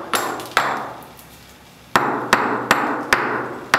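Slag hammer points striking a wooden piece to distress it, a series of sharp, close knocks in an uneven rhythm, with two early hits, a pause, then five more blows.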